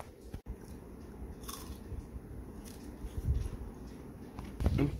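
Crunchy air-fried french fries being eaten up close, with soft bites and chewing crunches over a low background hum, the loudest crunches near the end, no talking.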